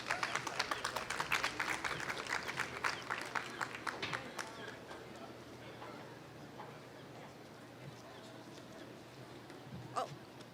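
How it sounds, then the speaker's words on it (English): Applause from an event audience greeting a guest speaker, a dense clapping patter that is loudest at first and then thins to scattered claps fading out. "please join me with a round of applause"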